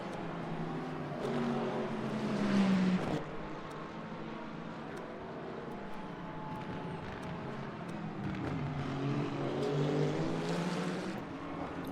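Hypercar race cars at Interlagos in Le Mans Ultimate roar past in a continuous drone of engines, pitch swelling and falling as cars approach and pull away, steady and moderately loud with no talk.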